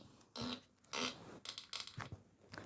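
Several short, loud raspy fart sounds come in quick succession, two longer blasts followed by a cluster of shorter sputtering bursts, close and alone.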